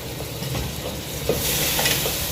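Half-cooked rice tumbles into a hot pot of biryani, a soft sizzling and stirring rustle with a few light scoops and scrapes, growing louder and hissier partway through; no talk.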